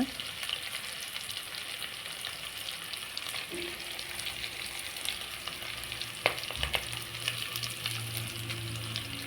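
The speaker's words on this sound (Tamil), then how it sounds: "வெங்காயம் நல்லா வணங்க விடுங்க." Onions frying in a pan, a steady close sizzle with a brief clatter of stirring partway through and a low hum entering in the second half; no one speaks.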